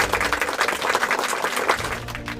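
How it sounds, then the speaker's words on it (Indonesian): A short, dense burst of applause from many hands, steady and fairly loud throughout its two and a half seconds. "Wih, hebat, tepuk tangan dong"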